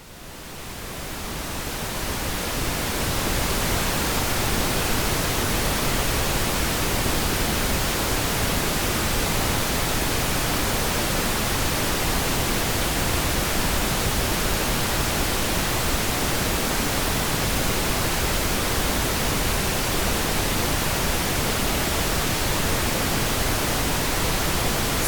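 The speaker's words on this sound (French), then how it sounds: "je vais vous faire écouter ce que j'appelle un bruit blanc" Broadband white noise fades in over the first few seconds, then holds as a loud, even, unchanging hiss spread evenly across all pitches for the rest of the stretch.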